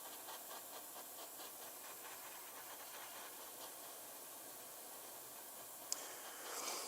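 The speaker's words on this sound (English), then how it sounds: "we're just going to use this airbrush just to help encourage that paint to dry" An airbrush blows a steady, faint hiss of air over a freshly painted Magneto miniature to dry it, continuous and even, with one small click near the end.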